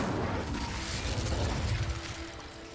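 Incendio fire spell in Hogwarts Legacy produces a rumbling burst of roaring, crackling fire, fairly loud and steady before thinning out toward the end, with no talking.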